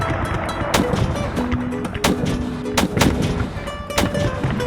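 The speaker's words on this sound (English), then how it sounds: "Both sides bombarded one another." A battle bombardment of cannon and gunfire from Pío Pico's and Alvarado's forces at the Cahuenga Pass: a rapid series of loud, sharp blasts, about six or seven, ringing out over a rumbling background.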